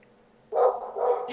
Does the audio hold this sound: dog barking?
yes